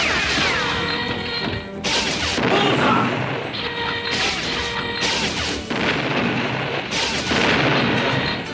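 Dense, loud volleys of gunfire during target practice in a Saturday-morning cartoon, bursts of crashing shots and booms nearly continuous, with rapid repeated blasts layered over each other.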